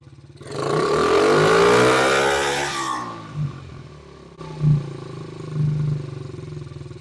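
A motor engine, just back from air filter work, revs loudly and close for a few seconds, then drops to a higher-than-usual idle that pulses with small bumps in the steady low rumble.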